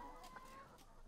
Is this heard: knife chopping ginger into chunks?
no